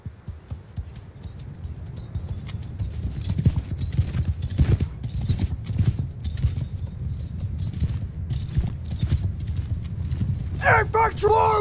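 Hooves of a horse archer gallop in a Mount and Blade II Bannerlord battle, a rapid continuous clip-clop with battle noise underneath, and a brief shout or whinny near the end.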